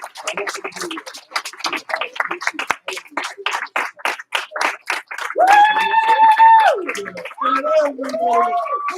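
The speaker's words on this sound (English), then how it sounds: "Let's all give her a big round of applause." A small group at a martial arts class belt ceremony claps in a loose run of sharp, separate handclaps before a voice begins speaking over the last of it.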